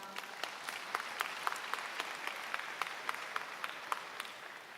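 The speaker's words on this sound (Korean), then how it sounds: "다시 한번 큰 박수 부탁드립니다" A faint, distant round of applause fills the hall at a Seoul National University graduation ceremony, a thin wash of clapping with a few sharper individual claps standing out throughout.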